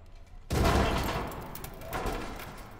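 Heavy sustained bursts of AAK-973 assault rifle fire in the Black Ops 6 campaign, erupting abruptly after a quiet start and continuing loud and dense with rolling reports, no talk.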